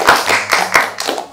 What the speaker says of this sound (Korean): 박수 한번 주자.